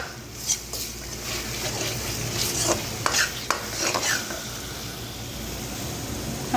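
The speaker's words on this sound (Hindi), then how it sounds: "इनको मिक्स करेंगे अच्छे तरीके से।" Chopped tomatoes stirred into mixed vegetables in a pan for achari mix sabzi, a steady scraping and sizzling with a few spoon clinks against the pan, continuous and close with no talking.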